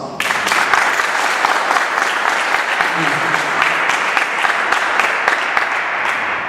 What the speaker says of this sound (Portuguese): Quem acha que isso é de Deus, dê uma salva de palmas.